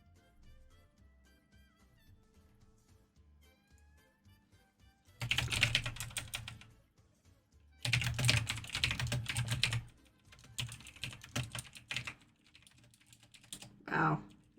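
Rapid clicking on a computer keyboard comes in two long, dense bursts and a few shorter flurries, close and fairly quiet, with near silence between them.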